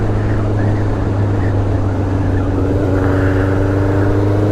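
A vehicle accelerates to overtake on the Isle of Man coast road, a loud, steady engine drone with rising tone and wind rush, close and continuous, with no talking.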